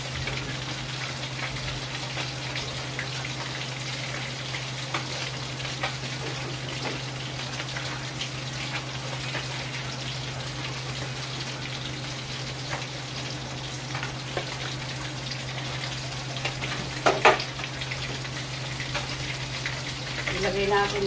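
Fish sizzles in hot oil in a pan in a home kitchen with a steady crackling hiss. A low hum runs underneath, and a few brief clatters cut through near the end.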